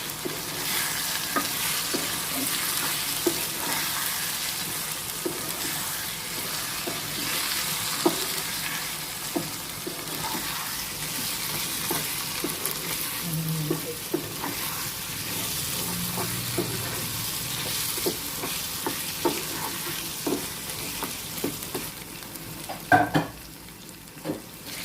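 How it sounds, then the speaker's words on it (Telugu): Chili powder being stirred into mutton and raw mango curry frying in a pan, a continuous sizzle with a spoon scraping and turning at irregular intervals, plus a louder clatter near the end. "ఒకసారి కలిపేసుకుందాం కారం."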